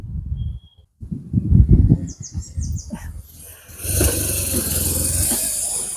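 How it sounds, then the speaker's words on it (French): After a few bird chirps and scattered rustling, motorcycle engines roar up and pass by, a loud broadband rush that holds to the end. "ça c'est des motards qui passent"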